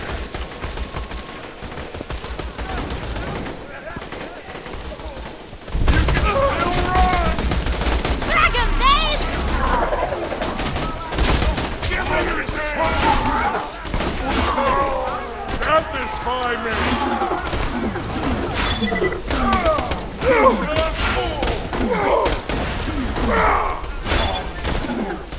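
Enemies firing in the video game Borderlands 2, rapid bursts of gunshots and automatic fire layered with game effects, loud and dense after a quieter opening, while voices talk over the action.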